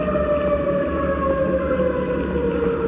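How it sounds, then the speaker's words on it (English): Tornado sirens wailing at night in Kentucky: a loud, continuous, sustained tone that slowly glides downward in pitch, droning without pause over a rumbling background. "tornado sirens ripping through the darkness."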